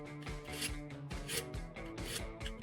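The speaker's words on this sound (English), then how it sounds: "Now, we will start sharpening the knife." Knife blade drawn repeatedly across a sharpening tool, giving about five rhythmic rasping strokes, close and fairly quiet with no talking.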